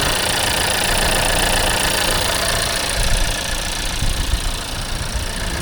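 A 2022 Volkswagen Taos with a 1.5 liter four-cylinder turbo engine idles steadily, a close, continuous hum and hiss with a faint rough ticking and no speech.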